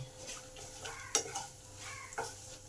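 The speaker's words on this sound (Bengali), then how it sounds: "ছোলার ডালটাকেও ভালো করে ভেজে নেব।" Chana dal is stirred and fried in a pan over low heat, with a soft sizzle under a few sharp scrapes and clinks of the spoon, close and fairly quiet.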